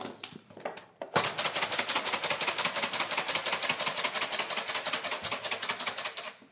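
Jhalmuri, spiced puffed rice with mustard oil and black salt, being mixed: after a few scattered knocks, a fast, steady rattle of rapid rhythmic strikes starts abruptly and keeps going close and loud for several seconds, then stops, with no talking.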